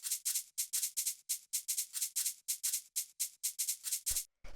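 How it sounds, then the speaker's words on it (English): Crisp, bright shaker samples from a minimal house track, playing a steady, quick pattern of short swishing hits, evenly spaced and heard alone at low volume. "After that, we have the shakers, which sound like this."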